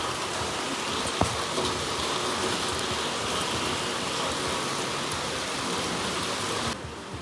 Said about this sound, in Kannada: ಎಂಥ ಜೋರು ಬರ್ತಾ ಉಂಟು ನೋಡಿ ಮಳೆ